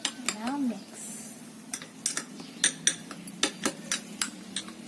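Kebab ingredients with olive oil and salt get mixed in a bowl, giving close, intermittent clinks and taps of utensil against dish in an irregular rhythm, with a brief voice-like murmur near the start.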